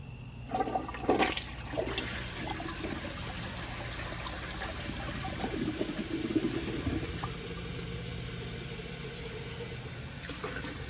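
A 1978 Eljer Emblem toilet flushes close by with a rushing surge of water that settles into a long, steady refill trickle, fairly quiet and with no talking.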